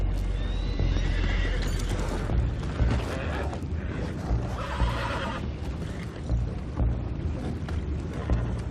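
Horses neigh and whinny with hooves clopping in a Red Dead Redemption 2 scene, loud and continuous over rumbling game ambience and splashing water, with no talk.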